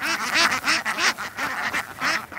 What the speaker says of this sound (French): tu donnes à manger un peu aux canards?